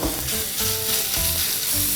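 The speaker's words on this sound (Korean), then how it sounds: "지금 중간불로 지금 천천히 볶고 있습니다." Pork stir-frying slowly over medium heat in a pan with garlic, a loud, steady sizzle with bursts of spatula scraping and stirring throughout, close up with no voices.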